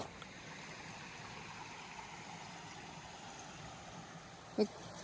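Steady broadband rush of creek water flowing along the Appalachian Trail in Virginia near Piney Creek, constant and moderately loud throughout, with one brief sharp knock near the end.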